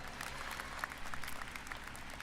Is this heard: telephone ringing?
no